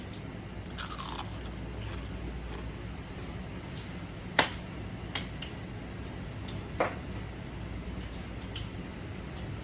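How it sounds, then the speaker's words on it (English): A few sharp crunches break through a quiet background, spaced bites into a crisp fried spinach bhajiya fritter, close up with soft chewing between. "You can hear the crunch."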